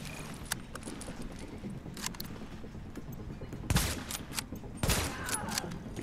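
Gunfire in The Division, a tactical shooter: scattered distant shots and a couple of louder bursts of rapid fire over a constant rumbling background of combat noise, no speech.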